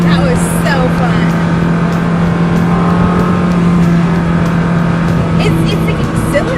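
Ferrari sports car engine accelerating at speed, a steady loud drone with a strong low hum and rising tones, heard from inside the car under faint background voices.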